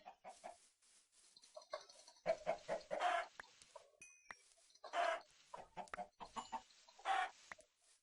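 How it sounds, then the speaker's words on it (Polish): Chickens clucking in the Minecraft video game, short repeated clucks in several bursts across the clip, fairly clear and alone with no talk over them. "I kurczaki."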